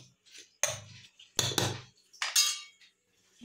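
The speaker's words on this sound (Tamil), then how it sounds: "இதை வந்து நல்லா ஒரு கரண்டி வச்சு கலரி விட்டுக்கோங்க." A spoon stirs banana appam batter in a bowl, making a few separate bursts of clinking and scraping against the bowl with quiet gaps between them.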